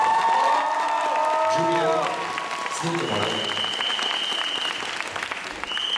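Audience applause for Mrs. Chubanska at a school graduation ceremony: steady, dense clapping throughout, with shouting voices and chatter over it at the start, easing slightly after the first two seconds.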